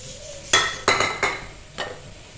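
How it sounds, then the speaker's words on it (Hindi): Onion pieces, one onion cut into four, dropped one after another into a metal pot while making mutton paya, giving several sharp clattering knocks close by with brief gaps between them and no talking. "सबसे पहले हम इसमें ऐड करेंगे एक प्याज।"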